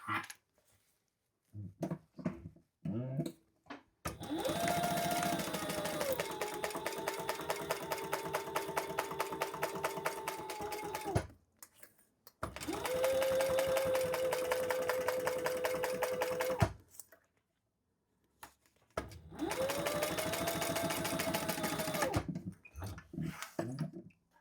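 Three separate runs of a sewing machine stitching a crossbody bag seam, each a few seconds of rapid, steady needle clatter with short pauses and handling noises between them, close up.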